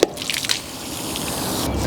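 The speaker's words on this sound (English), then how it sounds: "You will see that there will be a little bit of dribble flow of water." Water dribbles steadily from the drain opening of a Suburban water heater in a Northern Lite 8-11 camper after the drain plug with anode is removed. There are a few sharp drips first, then a continuous soft trickle, close by.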